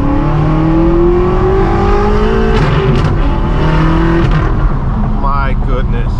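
An 800-horsepower manual BMW M6 Gran Coupe with loud exhaust accelerating up through the gears, engine note rising steadily and close, with people talking over it.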